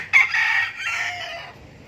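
A rooster crows loudly and close by in one drawn-out call, with no voices around it.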